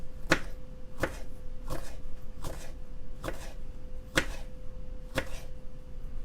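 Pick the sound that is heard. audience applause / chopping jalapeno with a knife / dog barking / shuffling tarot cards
chopping jalapeno with a knife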